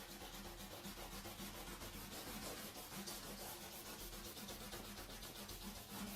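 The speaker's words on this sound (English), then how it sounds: "So rub them all out." An eraser rubs quickly back and forth over pencil lines on paper in a rapid, rhythmic scrubbing, very quiet and close, with no voice over it.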